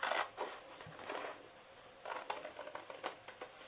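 Scissors cut through card for an Easter bunny treat box, making quiet, close snips and crisp slicing scrapes. The cuts come in short irregular bursts, with brief pauses between them.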